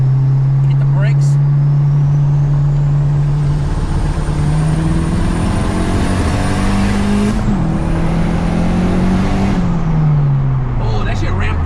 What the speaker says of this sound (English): So I was in fourth, you can hear the boost coming in.